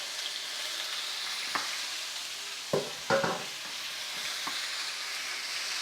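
A warm pan of Puerto Rican-style carne guisada mixture sizzles and fries with a steady hiss, broken by a few clunks and scrapes of stirring around the midpoint.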